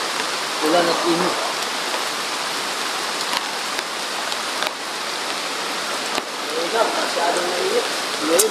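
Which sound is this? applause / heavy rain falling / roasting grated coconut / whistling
heavy rain falling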